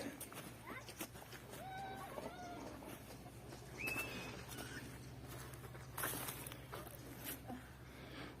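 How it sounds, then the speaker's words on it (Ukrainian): A cat in a village garden during autumn onion and garlic planting gives a few faint, short meows outdoors over low background noise and light movement. "О, Кицька прийшла, не наша, правда."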